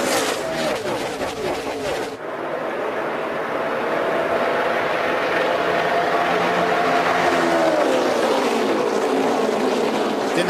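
Xfinity Series stock cars racing, a dense roar of engines that sharpens into a sustained, rising and falling drone as the pack passes, loud and continuous, with a commentator talking over the opening seconds.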